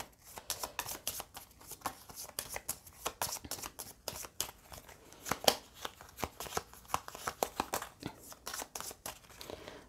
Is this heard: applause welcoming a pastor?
no